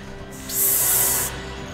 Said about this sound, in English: That's my first aid spray.